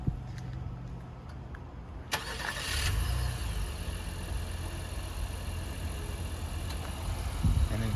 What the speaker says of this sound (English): So you press and hold the remote start button.